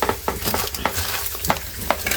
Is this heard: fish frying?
yes